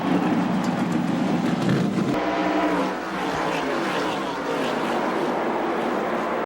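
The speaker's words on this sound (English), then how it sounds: "Gentlemen, start your engines." Race car engines roar into life at the start of the 1989 Daytona 500, a dense, loud, continuous rumble of many stock cars at the speedway, with a brief dip partway through and a faint voice underneath.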